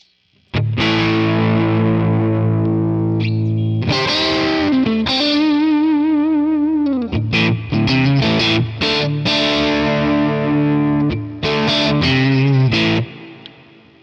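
Distorted electric guitar through a Quad Cortex amp capture of a Friedman amp, loud and alone, playing sustained chords and riffs with a held bending note, some pauses and choppy stops between phrases.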